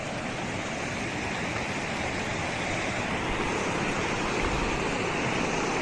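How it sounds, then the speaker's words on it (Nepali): Rushing water where the Sharada and Kolchaure streams meet, a steady broadband roar of flowing current that holds constant and fairly loud throughout, with no voices. "शारदा खोला अनि कोल्चौरे खोलाको सङ्गम रहेको"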